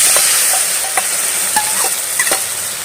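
Sauce is poured over lightly browned onions frying in a pan on a clay stove and stirred, giving a steady sizzle broken by several distinct scraping knocks of the spoon against the pan.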